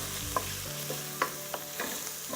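Basil and lemon zest frying in hot oil in a pan for risotto, a steady close sizzle with a few scraping stirs of a utensil and no one speaking.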